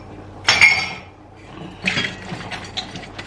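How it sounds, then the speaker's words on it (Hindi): Dishes and utensils are loaded into a dishwasher with two bursts of bright clinking and clattering, the second followed by lighter taps and knocks, close and fairly loud. "फिर डालती हूँ बर्तनों को"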